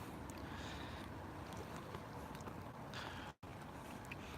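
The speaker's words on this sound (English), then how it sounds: "listening to the sound of the boats bumping against each other and the water" Steady wash of lapping water and low rumble by the River Thames in London, with faint knocks and creaks from moored boats bumping together, distant and continuous.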